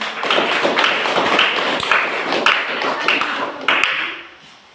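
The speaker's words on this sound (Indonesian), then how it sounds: "mari kita beri aplaus" A classroom of students applauds a group's presentation in a Catholic religious education lesson, with bright, rapid clapping that holds steady before fading out near the end.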